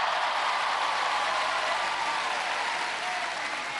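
Studio audience at a 1997 Gladiators UK heat applauding contestant Eddie McFarlane, a loud, sustained burst of clapping that holds steady and eases slightly toward the end, with no voices over it.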